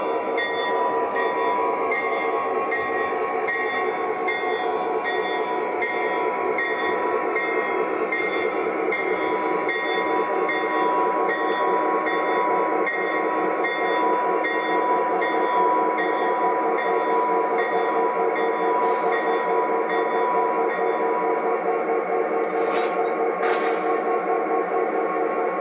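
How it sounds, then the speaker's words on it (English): O gauge model freight train being shoved by a locomotive at its rear, a continuous rolling rumble and rail hum lasting throughout, steady and fairly close, with a few faint clicks near the end. "Shoved means the locomotive is at the end of the freight train and is pushing it."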